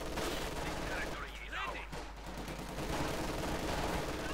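Rapid rifle and small-arms gunfire from G43-armed Grenadiers in Company of Heroes 2 crackles in dense, overlapping bursts over a constant loud battle din and rumble.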